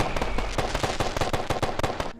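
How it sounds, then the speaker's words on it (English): A firework in a video game goes off as a rapid, loud string of crackling pops, about a dozen sharp bursts in two seconds that stop abruptly. "I lighted the firework."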